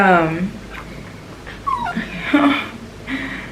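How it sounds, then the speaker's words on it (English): A dog whimpers and whines in short, high, plaintive bursts close by, with breathy sounds between them in a quiet indoor room. "my dog is not happy"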